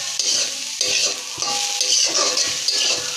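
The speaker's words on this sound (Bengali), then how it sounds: "এভাবে ভালো করে ভাজতে থাকবো।" Mustard greens sizzling in a pan over a medium flame, stir-fried with salt, with a bright continuous hiss broken by scraping stirring strokes at irregular intervals. Nobody speaks.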